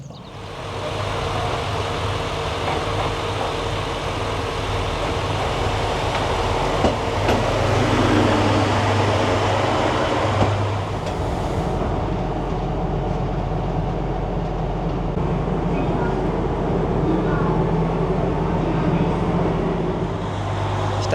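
A regional train in Kyushu runs along the rails and slows into a station, its low rumble and motor drone steady and loud from inside the carriage, shifting in tone partway through as it decelerates.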